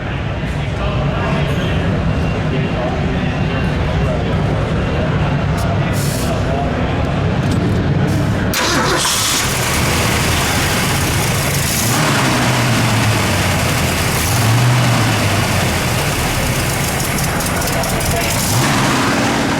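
A 1969 Mercury Cyclone GT's 390 V8 engine turns over and catches, then settles into a loud, rumbling idle up close, with people talking over the running motor.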